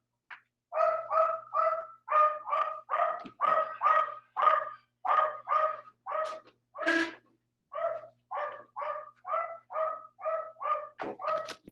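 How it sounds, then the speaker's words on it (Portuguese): A female dog barks in a steady run of about twenty close, loud barks with brief pauses and one sharper higher yelp midway, with no talk over it. "a minha cadela estava latindo ali"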